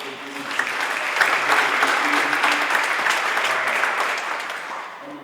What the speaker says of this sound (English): we can give them a hand clap for all the work that they do